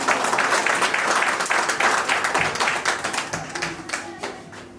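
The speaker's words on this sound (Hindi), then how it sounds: "ऐसे यंग एंड डायनेमिक लीडर का जोरदार तालियों के साथ स्वागत करें" Loud, dense applause from a crowd, steady clapping that fills the whole stretch before tapering slightly at the end.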